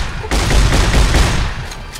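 A shotgun blast in Fallout: New Vegas booms loud and close, one heavy report that rumbles and rolls on for about two seconds.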